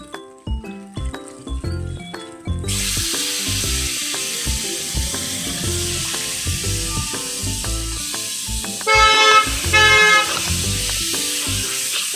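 Hajamguti being stir-fried in red spice masala, a loud, continuous hiss of frying that starts a few seconds in and runs on under background music, with a brief louder burst near the end.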